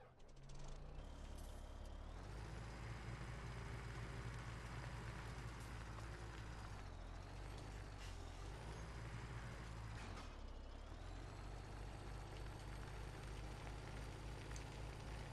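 In the video game Farming Simulator 17, a loader machine and log truck run together: a loud continuous diesel engine rumble with shifting revs, hissing air-brake bursts and mechanical clanks over about fifteen seconds, no voices.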